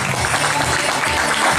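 Audience applause at a graduation ball, a dense burst of clapping from a crowd filling the whole moment, loud and even.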